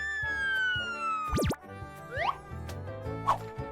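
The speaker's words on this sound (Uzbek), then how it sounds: "Mana bu tez yordam mashinasi." A children's cartoon ambulance siren gives a quick rising and falling wail amid bright musical tones and cartoon boings, loud and up close.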